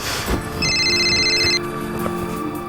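A telephone rings indoors in a family home, a bright electronic trill lasting about a second over a busy background of clatter and room noise.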